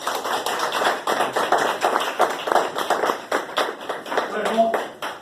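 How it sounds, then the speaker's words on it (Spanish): An audience at a political forum gives sustained applause, a steady dense patter of many hands clapping for several seconds, with voices faintly mixed in underneath. "Y otro aplauso."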